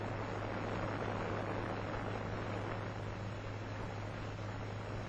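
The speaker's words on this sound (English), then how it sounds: "this type of aeroplane leaves the ground at approximately 40 miles an hour" A de Havilland Tiger Moth biplane takes off into the wind, a steady droning engine with a constant low hum under broad rushing noise, continuous and fairly even in level, with no talk.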